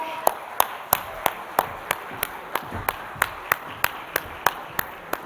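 Steady rhythmic clapping from a conference audience welcoming a speaker onto the stage, sharp evenly spaced claps about three per second, fairly close and bright over a faint room murmur.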